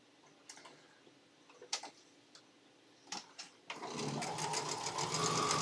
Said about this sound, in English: I'm going to go ahead and sew up the other side of these